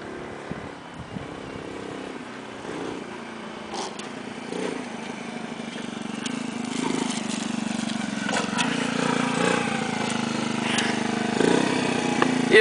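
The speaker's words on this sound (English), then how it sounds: "Here comes Sean and his lowrider" Small engine of a mini-chopper lowrider motorcycle running steadily at moderate distance, a continuous low drone with faint swells as it approaches, heard alone without talk.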